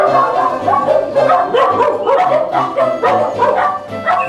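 Dog at an animal shelter barking repeatedly in a quick irregular series of sharp, close, loud barks mixed with whiny yips, with no talk over them.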